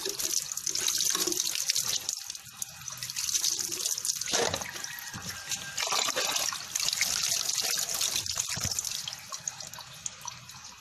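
Water runs from a tap into a sink during face washing, a steady close splashing stream that briefly changes and dips as hands cup and splash the water, with no speech.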